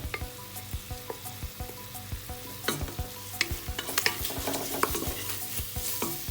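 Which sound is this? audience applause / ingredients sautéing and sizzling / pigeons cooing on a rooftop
ingredients sautéing and sizzling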